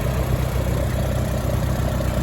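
A rebuilt Farmall Super C tractor engine runs steadily at idle, a loud, even low rumble with no breaks and no voices over it.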